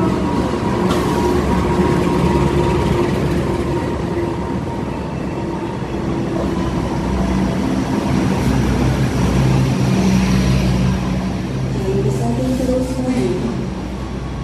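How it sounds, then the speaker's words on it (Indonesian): A train arrives at a station platform in Madiun, with a steady loud rumble of rolling wagons, drawn-out squeals and tonal hums rising near the end, heard from close by with faint voices underneath. "Keretanya udah datang tuh ya."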